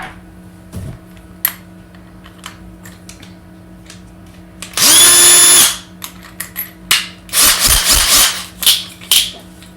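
A drill fastens D-rings to the frame of an artwork. Brief scattered clicks and taps lead into a loud whirring run of about a second, then a rougher, broken burst of drilling and handling noise nearby.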